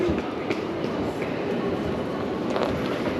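Steady rumble of a train rolling through a New York City station, continuous and fairly close with faint clatter riding over the low roar and no talking.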